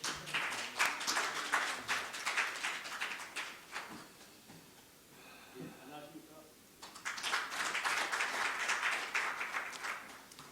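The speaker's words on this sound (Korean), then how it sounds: "박현문 도무님을 모시고 회장님 모시고 인사 말씀을 듣도록 하겠습니다. 박수 부탁드리겠습니다" Audience applause at a morning breakfast forum in Cheongju, steady clapping from a seated crowd that fades into a quieter gap and then swells again, fairly loud and close.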